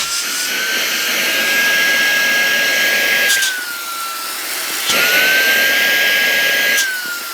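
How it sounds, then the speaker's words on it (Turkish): A small handheld vacuum cleaner whines loudly in two bursts, its motor pitch rising as it starts and dropping as it shuts off in between. "Gayet güçlü bir süpürge"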